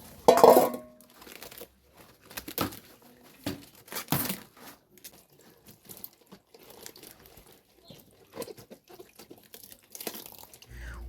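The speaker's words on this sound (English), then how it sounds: "shred the cabbages to see if it is full enough" Cabbages being shredded by hand, with crisp, irregular crunching and tearing of leaves, one louder burst at the start followed by softer scattered rips and crinkles with quiet gaps between.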